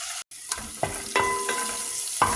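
Green peas sauté in a pan with a constant sizzle, broken by several clanking stirs of a utensil against the pan.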